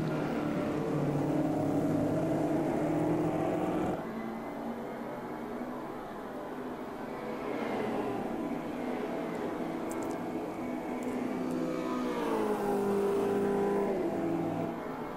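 Race cars in Automobilista 2 engines droning and revving as a pack races, pitch rising and shifting through gear changes, steady and fairly loud with no talk.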